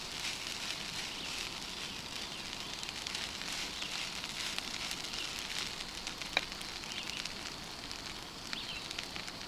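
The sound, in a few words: fire burning fuel while browning food at brunch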